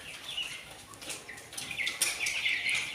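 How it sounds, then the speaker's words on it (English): Three-week-old poultry chicks, about 300 of them, chirp steadily in a brooding room, a continuous high twittering chorus, moderately close, with no talk. "Oh, by the way, the birds are 300 in number."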